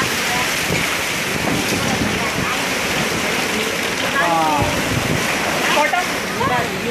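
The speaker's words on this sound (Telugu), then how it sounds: "ఏంది గాలి మంచి గాలే" Strong gusting wind during a hailstorm in Korrapadu, Rajupalem mandal, buffets the microphone with a heavy, continuous roar over falling rain, while voices talk faintly partway through.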